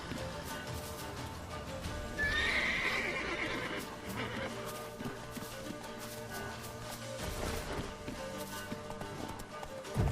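Horse in The Witcher 3: Wild Hunt gives a loud whinny near the start, followed by galloping and trotting hoofbeats over a steady game soundscape with no talk.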